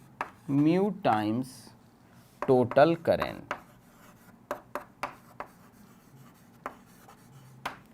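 During a physics lesson, a voice speaks briefly over scratchy strokes of writing on a board. Then a series of short, distinct taps and scrapes follows alone as the writing continues.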